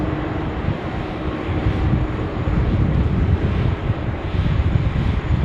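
Aircalin Airbus A330-900neo airliner at Sydney Airport, a loud, steady engine rumble with a low, wind-buffeted roar that swells slightly midway and stays close, no voices.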